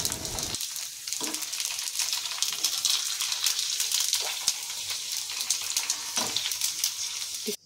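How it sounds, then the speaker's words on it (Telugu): Instant puris fry in hot oil with a continuous bubbling sizzle, close and fairly loud, broken by a few louder hisses and splashes. "వాటిని ఆయిల్లో అయితే వేసుకొని ఫ్రై చేసుకుంటున్నాము"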